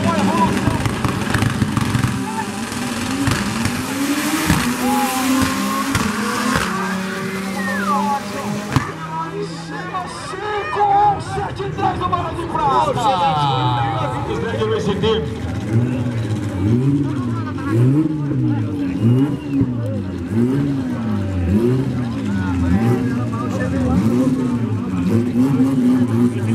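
A VW Gol 4x4 drag racing car accelerates hard down the track, its engine revving up through the gears, loud and close, while an announcer talks over it.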